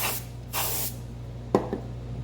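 Can of compressed air spraying dust off an iPhone 13 Pro screen: two short hissing bursts up close, followed by a light tap, over a steady low electrical hum.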